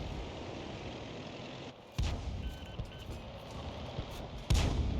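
In a video game, a 105 leFH18B2 howitzer fires a deep booming artillery shot, followed by a second heavy blast a few seconds later, both loud against steady battlefield rumble.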